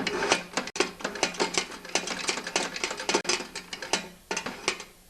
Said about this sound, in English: Now I'll work the gear shift again.